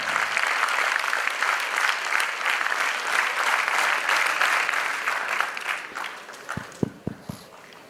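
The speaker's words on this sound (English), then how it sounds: "Come on, audience, can we applaud that?" An audience applauds the debaters at a Drishti 2k15 debate competition at Sri Balaji Society. Dense, steady clapping holds for several seconds, then thins out into a few scattered, sharp individual claps.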